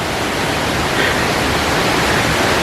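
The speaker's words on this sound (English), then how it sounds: "So that was the Kravice Waterfalls" Kravice Waterfalls near Mostar in Bosnia and Herzegovina roar with rushing water, a loud, steady broadband wash that stays constant throughout with no voices.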